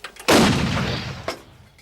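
A cannon fired on command at a West Coast Eagles football event: one loud, close blast with a long rumbling decay and a softer second thump about a second later.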